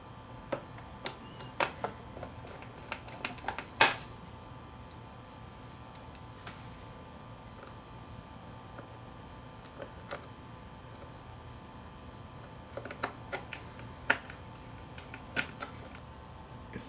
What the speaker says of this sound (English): now we'll put all the screws back in.